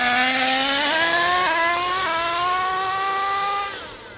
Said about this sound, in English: Let's do the idle test. This truck will stay on for days.